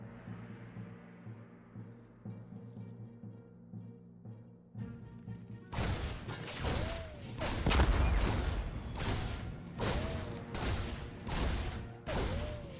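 A Reaper's grenade detonates amid StarCraft 2 combat, part of a string of sharp blasts and thuds that erupt after a quieter start, with clustered explosions and weapon hits repeating loudly over the battle.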